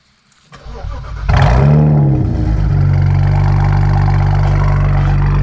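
A built twin-turbo BMW N54 engine cranks and fires up, flaring loudly before it settles into a steady, deep idle close by.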